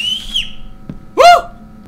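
A whistle inside a found-footage horror video game, heard as a faint high tone at the start and then a louder rising-and-falling whistled call, with a soft thud between.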